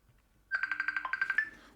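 A phone rings during a chess blitz game, a steady run of about ten quick electronic trill pulses starting after a short silence, close and clear, then breaking off abruptly.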